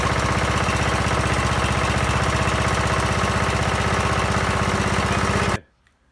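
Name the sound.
rebuilt lawn mower engine started and running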